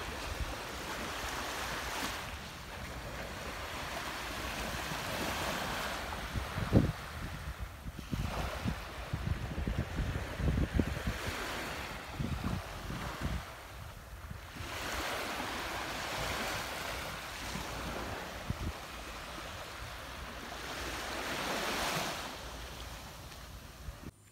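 Surf at Panama City Beach on Florida's Gulf coast rolls in as broad, rushing swells that rise and fall every few seconds, with steady wind noise underneath and no voices.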